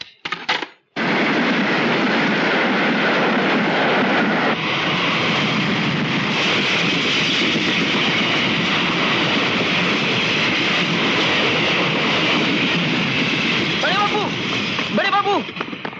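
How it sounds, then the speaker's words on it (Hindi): A Super Express train roars past at speed on the rails after a brief quiet start, a loud, dense continuous rumble with faint wheel squeals near the end, and voices intermittently audible beneath it. "अभी अभी सुपर एक्सप्रेस पास हुई है"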